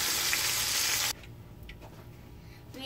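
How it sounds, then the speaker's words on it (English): A whole snapper being deep fried Caribbean style. A loud, dense hiss of bubbling oil fills the first second, then cuts off to quiet kitchen background with faint clinks. "We just finished deep frying the snapper whopper."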